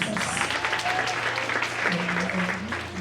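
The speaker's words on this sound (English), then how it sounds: "Can we clap hands for Jesus?" Church congregation clapping hands together during a Passover worship service, a dense steady applause close and loud for the whole stretch, with voices and a sustained tone mixed in underneath.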